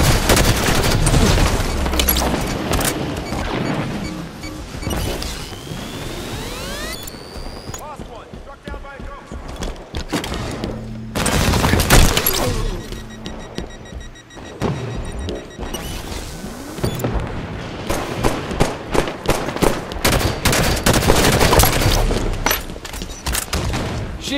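Heavy combat in Halo 5 Warzone erupts as an enemy Ghost vehicle attacks, with bursts of rapid gunfire, blasts and crashes that rise and fall over about twenty-four seconds, and a player talking over the chaos.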